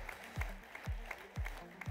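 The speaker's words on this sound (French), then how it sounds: "Sous les applaudissements du public, en délire" Audience applause at a live corporate-responsibility festival broadcast, heard as continuous clapping mixed with regular deep thumping beats, moderately distant and fairly faint.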